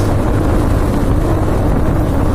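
A fuel-injected motorcycle engine runs at full speed, a loud, steady roar held close to the microphone without a break.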